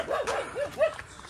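A dog gives several short yipping barks and whimpers at close range, a quick burst of sharp calls rising and falling with no talk over them.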